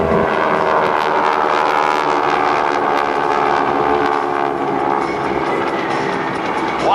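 GEICO Skytypers vintage propeller formation aircraft flying the Diamond Pass at the 2008 McGuire AFB open house, a loud steady droning engine roar sustained throughout with no talk.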